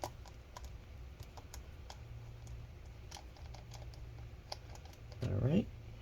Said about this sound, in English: let's go ahead and remove all 6 of those screws